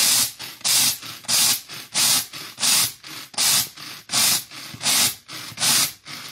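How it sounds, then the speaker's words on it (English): A manual pull-cord chopper grinds coffee beans coarsely for cold brew, each cord pull giving a loud whirring rasp in a steady rhythm of about nine strokes, close and alone without speech. "But there is the coffee beans ground coarsely for my cold brew."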